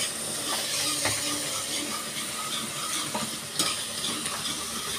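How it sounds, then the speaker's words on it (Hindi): An onion tadka fries in oil in a home kitchen for a ghee and ridge gourd curry, a loud, close, continuous sizzle with occasional stirring scrapes and clicks throughout. "इसके लिए हम तड़का भून रहे हैं अपना। इसमें ऑयल और ऑनियन ऐड किया हमने।"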